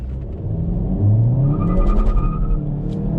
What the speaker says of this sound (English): it upshifted automatically to give me as much acceleration as possible and as much traction as possible